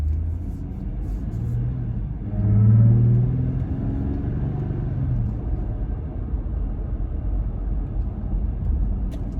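A Jeep Gladiator fitted with a cold air intake pulls away from a stop, its engine rumble swelling briefly and then settling into a steady low drone heard from inside the cab.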